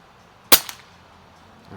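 A single sharp air rifle shot from a Notos fitted with an FX barrel kit, fired at a target, with a short impact knock following and quiet afterward.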